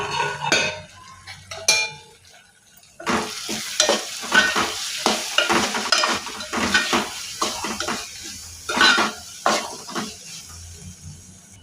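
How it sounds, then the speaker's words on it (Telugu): Chana dal and cauliflower masala curry stirred in a pot with a spoon, giving close, repeated scraping clinks and soft sizzling in an irregular rhythm, with no voices. "మూత తీసుకొని ఒకసారి కలుపుకోవాలి."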